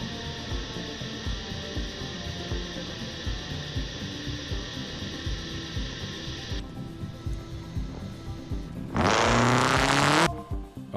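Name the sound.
loud car engine revving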